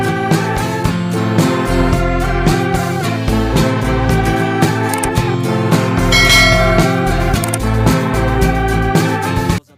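Bright chiming bells ring over a full, loud musical backing with deep bass, continuing steadily before cutting off abruptly at the end.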